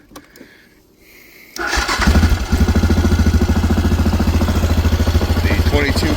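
A 2014 Yamaha Grizzly 700 ATV engine, run without coolant, catches after a short quiet stretch and settles into a loud, steady, rapid idle thrum that fills the rest of the clip close up.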